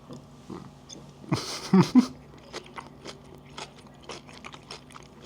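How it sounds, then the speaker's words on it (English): Close-up crunching as a crisp chocolate praline is bitten, a few loud crunches followed by softer, steady chewing sounds. "Can you hear that crunch?"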